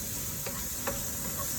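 Chopped onions and celery sautéing in a pan give a short, even sizzle with a couple of soft stirring scrapes, close and continuous.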